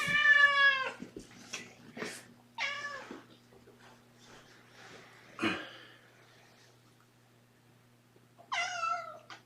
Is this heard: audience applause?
no